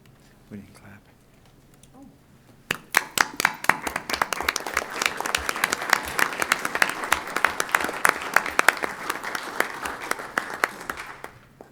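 Hands clapping at a county commission meeting, starting abruptly after a few faint words and building into brisk, loud, irregular applause from the room that carries on before fading out.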